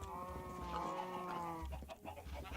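A chicken clucks in the video game Minecraft, with repeated soft clucks over steady game music and ambient tones, no speech.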